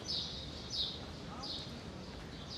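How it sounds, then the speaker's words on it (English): High, brief bird chirps repeat about every second, faint and distant over a low rumbling city background on a Brooklyn street. "I can hear the birds. I hope that you can hear them too."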